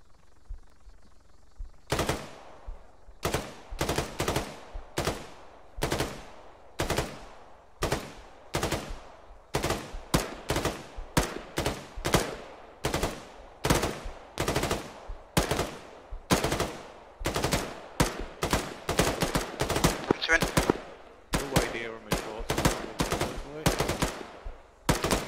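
Rapid gunfire from ARMA, a military tactical shooter, during a co-op milsim breach: sharp automatic bursts and single shots crack repeatedly for over twenty seconds, loud and close, with dense overlapping reports in the later stretch.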